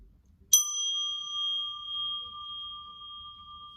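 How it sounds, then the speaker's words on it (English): A single bell is struck once and rings out with a clear, sustained tone that slowly fades in a quiet room. "Let me ring a bell."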